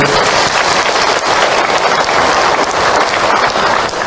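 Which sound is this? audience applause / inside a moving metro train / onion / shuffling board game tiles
audience applause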